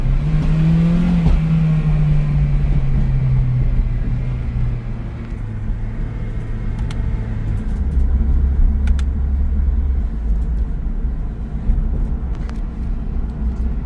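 An Acura RSX with paddle shifters revs and drops through a downshift, a loud, close engine drone whose pitch falls in steps as gears change, with a deep rumbling hum underneath and no talking.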